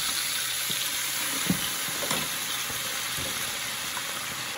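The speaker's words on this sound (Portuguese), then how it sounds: "a gente ainda continua refogando, porque é para apurar mais ainda os sabores" Blended seasonings sauté in a hot pan without water, giving a continuous close sizzle with a few soft stirring scrapes, and no talk.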